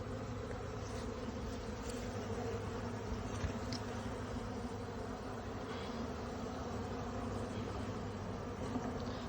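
A honeybee swarm buzzes steadily and densely for the whole stretch, a continuous close hum with no pauses while frames are shifted in the hive.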